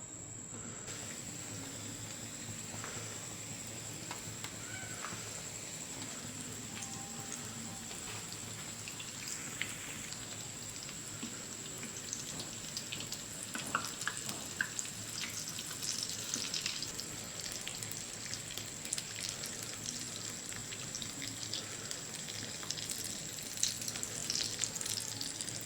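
Chicken samosas frying in hot oil, a steady bubbling sizzle that runs throughout with small pops and crackles, close and fairly constant, with no talking.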